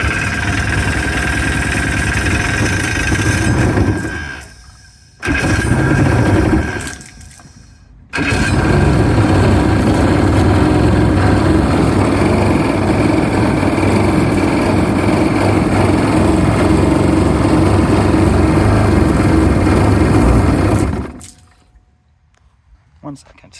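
A small engine on a jon boat being converted to a jet boat, apparently faulty, runs loud and close in long steady stretches, cutting out twice briefly before stopping near the end.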